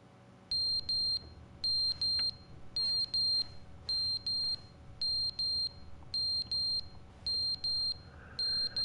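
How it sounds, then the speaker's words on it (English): Repeated electronic beeps in pairs from the game The Stanley Parable Ultra Deluxe, evenly spaced about once per second, bright and steady over a low background hum. "I want to listen to these beeps."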